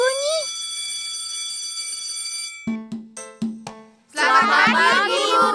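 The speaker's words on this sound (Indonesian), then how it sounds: "Eh, bel sudah berbunyi." A school bell rings in an animated children's series: a steady electronic tone rings for about two and a half seconds, then several short struck chimes follow, and a chorus of children's voices breaks in near the end.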